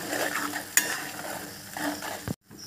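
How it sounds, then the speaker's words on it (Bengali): Whole spices frying in hot oil are stirred in a pan while preparing a curd-and-fenugreek katla fish curry, giving a steady soft sizzle with scraping stirs and a sharp utensil clink near the middle, close by. "তো দেখুন মশলা আমার প্রায় ভাজা হয়ে এসেছে।"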